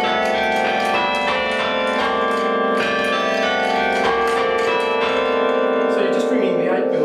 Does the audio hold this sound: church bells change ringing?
yes